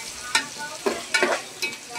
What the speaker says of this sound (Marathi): कांदा लाल करायचा